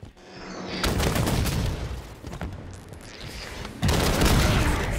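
Rapid gunfire bursts in the Halo 5 Fiesta Slayer multiplayer mode, loud close automatic fire and booming shots that fade briefly mid-way then return in a heavy volley.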